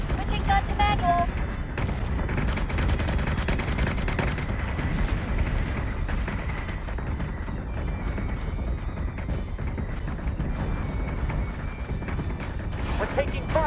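Ship guns in the Battlestar Galactica Deadlock video game keep up a dense, continuous rumble of fire and explosions, with radio-style voices speaking over the sustained barrage.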